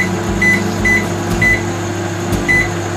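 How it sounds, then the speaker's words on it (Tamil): An oven door thuds shut, then a series of short electronic beeps as buttons are pressed on the oven's control panel, close by. "இப்போ க்ளோஸ் பண்ணிவிட்டு அவன் செட் பண்ணிடலாம்."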